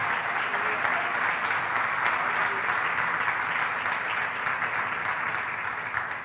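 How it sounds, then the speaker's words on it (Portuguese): A church congregation applauds together in steady, dense clapping that fills the space evenly from start to finish, loud and continuous with no voice rising above it. "eu queria que você aplaudisse e glorificasse o nome do Senhor."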